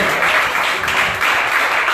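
A church congregation claps for the Lord during a Spanish-language sermon. The loud, steady wash of many hands clapping pulses slightly over two seconds.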